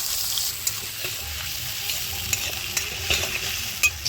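Chopped ginger, garlic, onion, tomato and green chili hit hot fish oil with fenugreek seeds, giving a loud, steady sizzle with scraping stirs and a few sharp pops, no talking.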